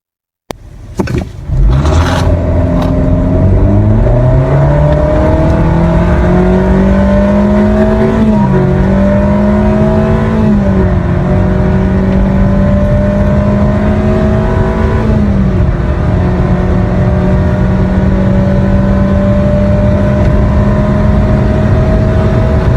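A car with a CVT transmission, programmed to simulate gear shifts, accelerates hard: the engine drone climbs in pitch, drops back at each simulated shift, then climbs again. Loud and close throughout.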